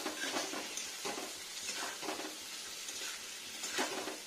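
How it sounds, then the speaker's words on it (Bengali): Papaya and vegetables seasoned with turmeric and salt sizzle in a frying pan for a vegetarian dish, a moderate steady crackle with several rhythmic stirring scrapes, heard close and without talk. "এবার নাড়া দেবো আবার।"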